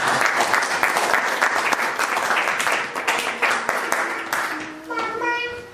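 A church congregation applauds loudly and steadily, a dense wash of clapping that fades toward the end as a voice begins speaking.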